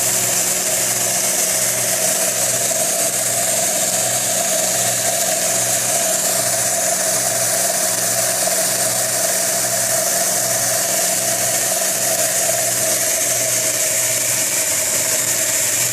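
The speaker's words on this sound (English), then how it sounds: "A quick little belt sander." A homemade belt sander built from shop scraps runs with a steady, loud motor hum and whir, unbroken and alone throughout.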